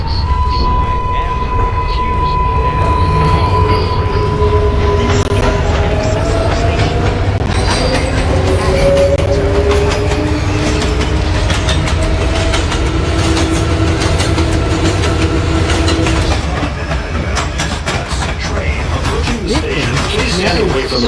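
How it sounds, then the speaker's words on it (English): A Manhattan-bound local subway train pulls into an elevated station near Yankee Stadium, a loud continuous rumble of wheels and motors with rising and falling squeals, while a recorded announcement plays over it. "There is a Manhattan-bound local train approaching the station."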